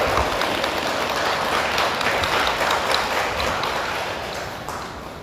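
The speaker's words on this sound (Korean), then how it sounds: "신도님께서는 5만의 박수를 주시기 바랍니다." A congregation at a regular Buddhist dharma service at Gwangbeopsa temple in Danyang applauds in a dense, even burst that gradually softens and thins toward the end.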